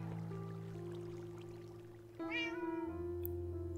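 A cat meows in a video game, one drawn-out wavering meow rising near the end over a steady hum of background game tones, with no voices.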